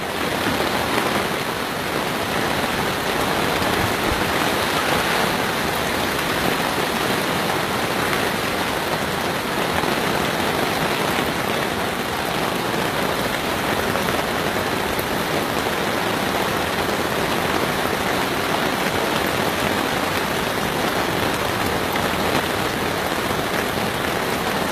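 Heavy storm rain at the Rock am Ring music festival in 2018, a dense, steady roar of downpour hammering surfaces without break, loud and close, with no voices.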